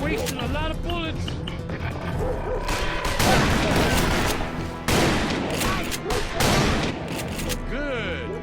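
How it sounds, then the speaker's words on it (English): Gunfire in the Western shooter game Call of Juarez: Bound in Blood, with rapid volleys of loud, overlapping shots and heavier bursts mixed with game sounds, while voices speak over the action. "Sure wasting a lot of bullets."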